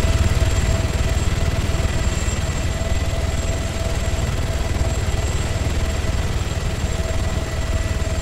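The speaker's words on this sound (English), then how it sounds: "Helicopter's watching us" A helicopter's rotor thrums steadily overhead in a video game, a continuous pulsing engine drone with a faint high whine, no talking.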